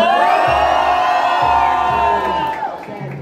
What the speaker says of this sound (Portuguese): quem acha que deu Muzi, mano, pode gritar pra ele.